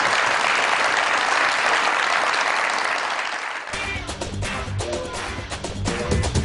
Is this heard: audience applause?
yes